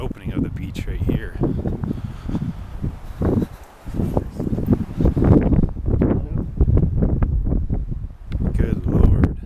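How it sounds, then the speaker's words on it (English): Strong wind on Holkham Beach, England, roars and buffets the microphone in uneven gusts throughout, with a person talking close by under the noise. "So it is super windy here, so I don't know if you're going to be able to actually even hear me"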